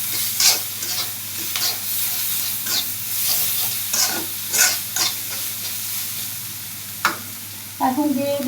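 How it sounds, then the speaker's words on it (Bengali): Chili, coriander and turmeric powder stirred in a hot frying pan for a singara filling, with a spatula scraping in repeated strokes over a steady oily sizzle, close and fairly loud. "একটু ধনিয়া গুঁড়া দিয়ে দিলাম, দিয়ে একটু নাড়াচাড়া করে নিব"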